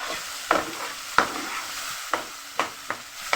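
Masala paste and salt are stir-fried in oil for a bhetki fish dish. A low sizzle runs underneath several distinct, evenly spaced spatula scrapes and knocks against the pan.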